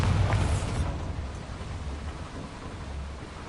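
A Bombarda explosion spell cast in the video game Hogwarts Legacy, a single heavy blast at the start that trails off into a long low rumble, with no voices over it.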